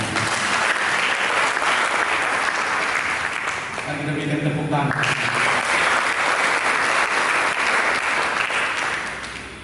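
A church congregation applauds after a sermon, a dense, steady wash of clapping that holds for the whole stretch, with a brief sung or spoken voice rising through it midway before the clapping fades at the end.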